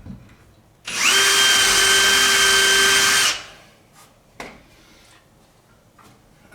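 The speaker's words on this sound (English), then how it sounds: "So we're going to drill these as if it's new." A power drill bores into parts of an 1865 Forster & Andrews pipe organ under restoration, one steady high whine lasting about two seconds, followed by a few faint knocks and handling clicks nearby.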